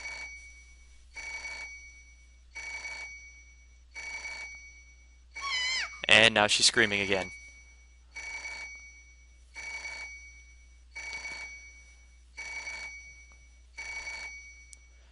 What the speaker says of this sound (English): More up and the phone rings, of course.